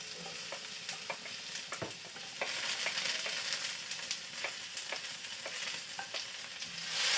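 Onion frying in very hot oil for torta Kapampangan, a steady broadband sizzle with scattered crackles and spatters, occasional stirring clatter, swelling louder toward the end, with no talking.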